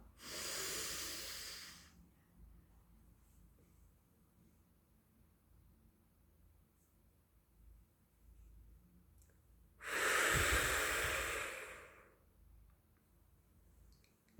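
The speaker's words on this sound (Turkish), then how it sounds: "Hemen bir mavi nefes alıyoruz bu defa." A deep breathing exercise: a long, close inhale of about two seconds, a quiet pause of eight seconds, then a strong, loud exhale of about two seconds, alone without talk.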